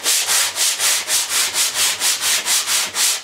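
Steady back-and-forth rubbing of sandpaper by hand on the smooth side of a hardboard panel, about a dozen even strokes in a regular rhythm, close and fairly loud.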